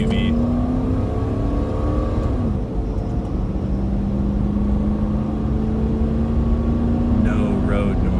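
A 21-year-old Toyota SUV fitted with a K03s turbo pulls at full throttle, its engine note climbing steadily as a loud, continuous drone inside the cabin, with voices talking over it.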